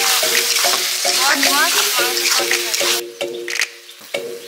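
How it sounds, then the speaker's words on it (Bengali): Shrimp with chilli, cumin and turmeric powders, salt and onion-ginger-garlic paste fry in a pan as fried okra goes in, giving a loud steady sizzle with rhythmic scraping stirs and a clatter near the end. "চিংড়ি মাছের সাথে মশলা কষিয়ে নিয়েছি, ভেজে রাখা ভেন্ডিগুলো দিয়ে দিচ্ছি।"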